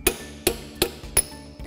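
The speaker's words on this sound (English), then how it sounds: "we'll use a punch and a hammer" Four sharp metallic hammer blows strike a punch to bend a bearing lock washer tang into a lock nut slot, evenly spaced and ringing, with a lighter fifth tap at the end.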